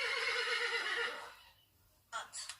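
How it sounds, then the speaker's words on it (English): A horse on a farm gives one loud, close whinny that trails off, followed by a couple of brief sharper sounds near the end. "Hi, I'm a horse."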